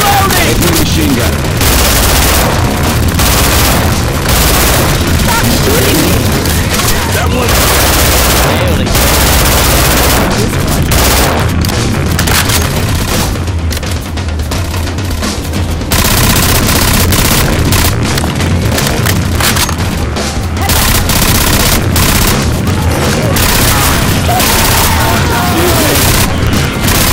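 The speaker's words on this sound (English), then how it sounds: "Take the machine gun." A mounted machine gun fires in Left 4 Dead 2 in long, loud, relentless bursts through a zombie horde, with crashes and booms mixed in and players shouting over the noise.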